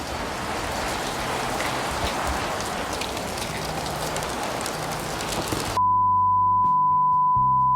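Steady, dense rain falls and patters loudly and evenly for several seconds, then cuts off abruptly into a clean electronic test tone.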